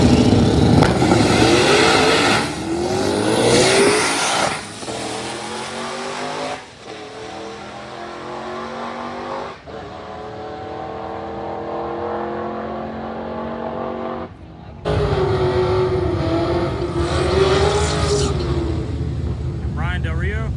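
A stick-shift SS Trailblazer with a diaphragm clutch racing in a streetcar stick shift class: loud engine revs climbing through gears with breaks at the shifts, close and sustained, with a commentator talking over it.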